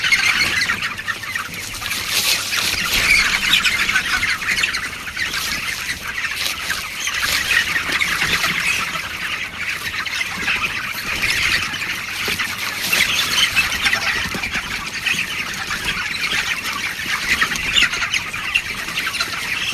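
A shed full of chickens squawks and clucks continuously, many birds overlapping at once in a dense, busy clamour that stays steady throughout.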